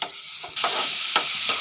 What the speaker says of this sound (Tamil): இப்போ சர்க்கரை போட்டு நல்லா ஃப்ரை பண்ணிக்கணும்